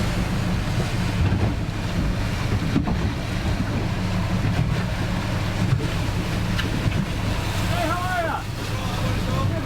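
A police boat closes in across open sea water in Pedder Bay, its engine rumbling low and steady under heavy wind buffeting and waves, with brief faint chirps near the end.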